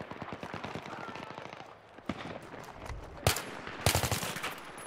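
Battlefield 3 gunfire: rapid automatic bursts of rhythmic cracks, then a brief lull and a few louder, sharper single shots near the end, close and punchy.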